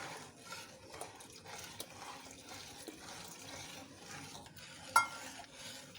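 A spoon stirs a cornflour mixture into hot and sour chicken soup in a pot. The stirring is faint, soft and continuous, with a single clink of metal near the end.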